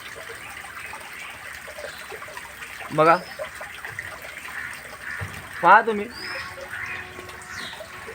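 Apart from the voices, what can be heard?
water running to waste from a drinking water tank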